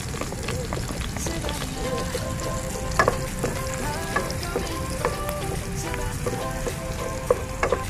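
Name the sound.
sautéing garlic and onion in a pan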